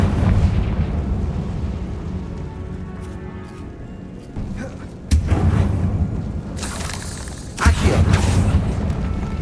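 Confringo fire spells in Hogwarts Legacy go off as several loud booming explosions, with sharp bursts near five and seven and a half seconds over a rumbling background of game ambience and brief talk.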